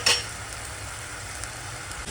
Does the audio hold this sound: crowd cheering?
no